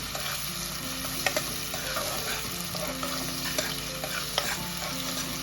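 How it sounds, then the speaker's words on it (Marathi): Finely chopped onion frying in a pan for Kolhapuri mundi rassa, a constant close sizzle with repeated scraping and tapping of a spatula as it is stirred. "आता आपण त्यामध्ये हा बारीक चिरलेला कांदा टाकणार आहोत। हा आपण थोडासा ब्राऊन कलरवर भाजून घ्यायचा आहे।"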